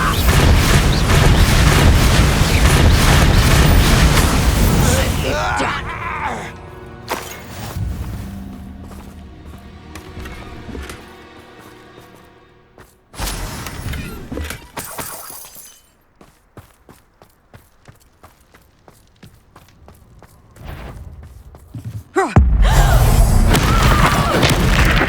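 Bombarda spell explosion in the Hogwarts Legacy video game, a loud crashing, shattering blast that gives way to quieter scattered debris and effects, then another loud burst at the end.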